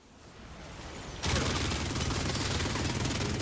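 Haalvu weapon in Warframe firing in a dense, continuous burst that kicks in abruptly after a quieter buildup, loud and close with rapid rattling repeats and no talking over it.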